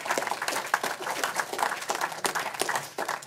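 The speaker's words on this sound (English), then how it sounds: "Give our presenters a round of applause for their presentation." Audience clapping for presenters at a town hall meeting, a steady crackle of many hands applauding close by throughout, with scattered louder individual claps.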